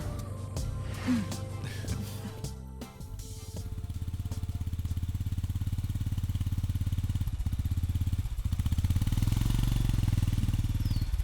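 A motorcycle engine runs steadily and fairly close throughout, a low continuous rumble that grows slightly louder in the second half, with a brief clatter near the start.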